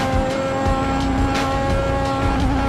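Lotus 98T Formula One race car driven at full throttle in the racing game Assetto Corsa, a loud steady engine drone holding a high pitch with slight wavering, close and continuous with no voices.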